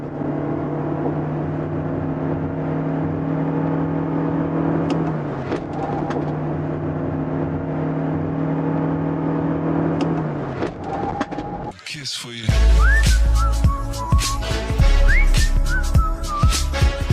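A Toyota Prius AWD hybrid accelerating hard to 100 km/h, a rising electric whine and road roar heard from inside the cabin, loud and continuous, with a sharper burst of noise near the end and a voice talking over it.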